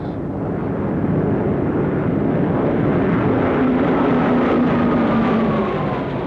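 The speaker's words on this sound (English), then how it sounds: "These are Japanese planes." Japanese military planes fly overhead in WWII newsreel footage: a loud, steady engine roar that fills the whole stretch without a break, with a faint tonal drone sliding slowly downward as the aircraft pass.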